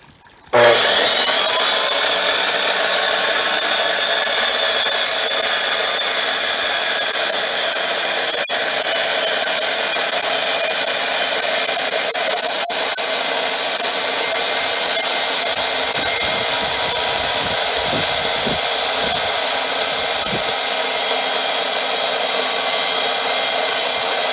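A water-cooled saw powers up and runs steadily for a single cut about 3/8 inch thick, a loud continuous high whine with a slight pitch shift as the blade bites into the material, no talking.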